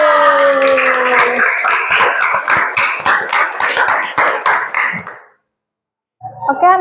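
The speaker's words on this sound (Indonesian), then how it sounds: "tepuk tangan dulu" Junior high school students clap their hands in a classroom, a dense run of sharp claps with rhythmic accents over a chanted cheer, stopping abruptly before a voice speaks after a short silence.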